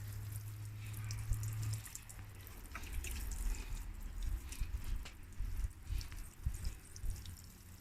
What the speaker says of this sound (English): Give them a good water. Everything a good water.